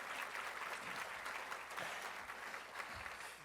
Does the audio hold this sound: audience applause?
yes